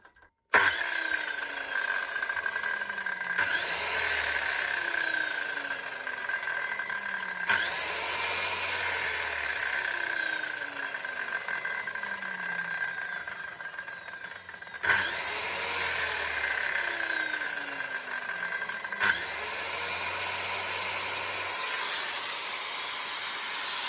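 A repaired power tool, fixed for an intermittent switch fault, runs steadily and loudly with a constant whine, cutting out and restarting a few times with short gaps between bursts.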